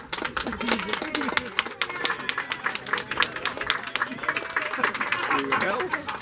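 An audience at a family reunion program applauds, dense, uneven clapping that carries on steadily, with voices talking underneath.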